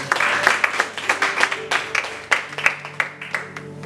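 Congregation in a church service applauding the Lord, a dense, close burst of many hands clapping with uneven peaks, steady throughout with faint voices mixed in.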